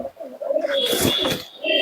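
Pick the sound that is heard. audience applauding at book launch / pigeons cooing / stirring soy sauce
pigeons cooing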